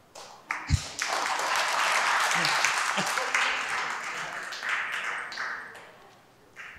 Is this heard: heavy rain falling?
no